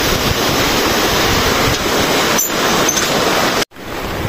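Loud, continuous rush of flowing water during stormy weather in Benguet fills the recording with a steady roar, briefly cutting out near the end.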